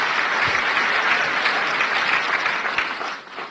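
An audience claps steadily for Jesus during a church deliverance service. The applause is dense and sustained, sounding close and loud throughout, then thins slightly at the end.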